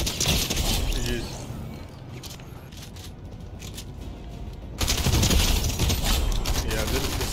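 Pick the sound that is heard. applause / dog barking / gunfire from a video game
gunfire from a video game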